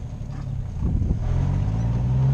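A vehicle engine rumbles low and steady, building louder as it pulls away, with wind buffeting the microphone.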